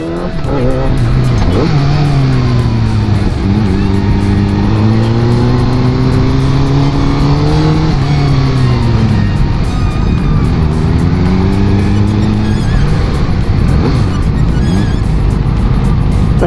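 Voge 500SR motorcycle pulling hard in second gear on a test ride, loud close engine rising in pitch through repeated revs, steady and continuous with wind noise.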